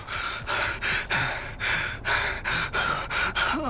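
The killer in The Texas Chainsaw Massacre video game breathes heavily and close, about eight harsh, rhythmic gasping breaths in quick succession with a faint low background hum.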